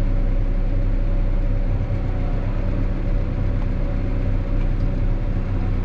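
New Holland T5.140 Auto Command tractor engine running steadily while creeping slowly forward, a loud continuous low diesel rumble with no break, no voices over it.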